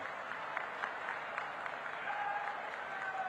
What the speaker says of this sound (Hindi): एक बार जोर से पुष्कर सिंह के लिए ताली बजाकर उनका स्वागत करिए